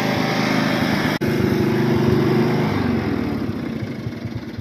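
John Deere lawn mower engine running loud and close with a steady buzzing drone, then dropping in pitch and settling down toward idle, the rhythmic firing becoming slower and more distinct.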